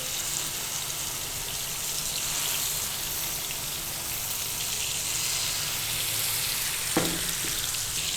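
Fish sizzles steadily on a tawa over a low flame, a constant broadband frying hiss with a brief clink or scrape near the end and no talking.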